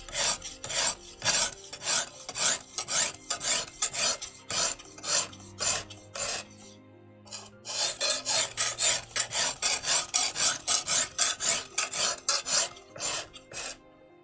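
A knife blade is drawn in steady strokes across a coarse 400 or 180 grit sharpening stone, producing harsh rhythmic rasps close up, with a brief pause midway before the scraping resumes.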